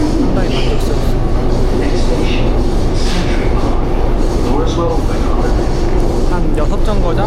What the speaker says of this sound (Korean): 지하철을 타고 가고 있습니다